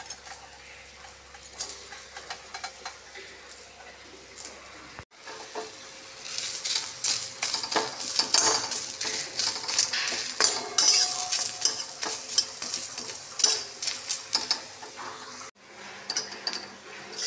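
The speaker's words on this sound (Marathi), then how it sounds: "आता कांदा भाजून घेते. कांदा भाजताना थोडंसं तेल टाकायचं." Onion roasting in a little oil in a pan, a steady soft sizzle with scraping and stirring strokes that grows busier after a brief quiet start, fairly close and without talk.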